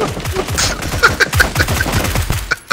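Rapid gunfire in PUBG as a player shoots at a box, a steady stream of sharp close shots with brief pauses, loud and punchy, ending in a final burst.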